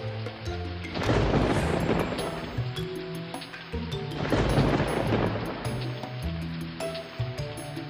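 Heavy rain and wind in a village storm, with thunder rumbling in two long, loud swells under a steady roar of downpour and a tonal music bed underneath.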